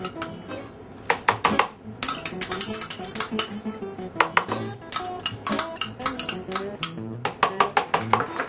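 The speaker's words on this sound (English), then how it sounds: "I'm going to go ahead and put the beef baby food into this nice bowl here." Beef baby food being scooped into a bowl with a utensil: a run of sharp clinks and taps of metal on dish in irregular clusters, close and moderately loud, with no talking.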